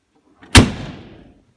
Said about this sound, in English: Okay, let me shut the door.